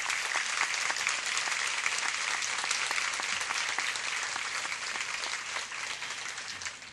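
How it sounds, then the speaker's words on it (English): Dense, steady applause from a large audience at a university president's convocation, loud and close, filling the whole stretch with no talk over it. "Give them a round of applause."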